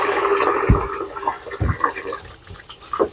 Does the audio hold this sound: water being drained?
yes